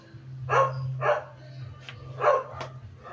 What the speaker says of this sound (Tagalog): Tinatahulan ng aso yung dumadaan.